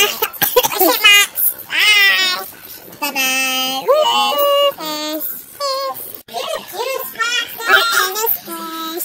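A voice imitates a cat, meowing repeatedly in quick, high, wavering calls, one after another without pause.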